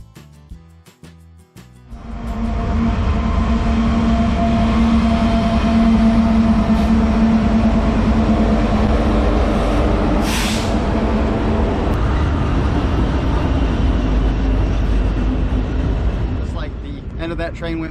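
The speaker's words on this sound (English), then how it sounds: "End of that train went by." A train rumbles past close by, a loud continuous roar with rattling wheels that holds steady before easing off near the end.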